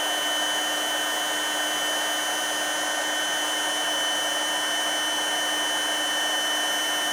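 A 350 watt heat gun blows hot air onto heat shrink tubing around a wire end, a loud, steady whooshing hum that holds unchanged throughout with no voices.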